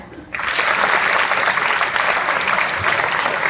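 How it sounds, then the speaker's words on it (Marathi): Applause for young performers at a school annual prize-distribution ceremony, starting sharply after a brief quiet moment and continuing as steady, dense clapping from the audience through to the end. "त्यांच्यासाठी एकदा टाळ्या"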